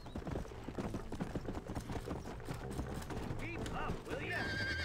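A horse in the video game Red Dead Redemption trots with steady clip-clopping hooves and lets out a whinny, mixed under game sounds while people talk over it.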